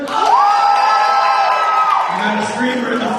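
A crowd at a salsa show screams and cheers loudly and continuously, with whoops and a sustained high shout riding over the roar.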